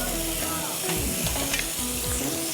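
Chicken sizzling on a grill in a home kitchen, a steady, loud frying hiss with faint clinks and a voice talking softly underneath.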